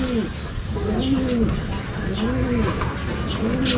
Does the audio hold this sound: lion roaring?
no